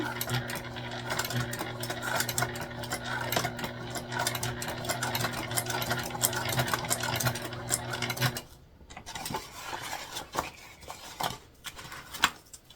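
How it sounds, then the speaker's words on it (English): A sewing machine stitching a fabric sling close to its metal D-ring: a loud, steady mechanical hum with rapid needle clatter for about eight seconds, then it stops, leaving quieter handling clicks and a sharp tap near the end. "we're going to sew this together the same way we sewed the other one. As close to that D-ring as possible."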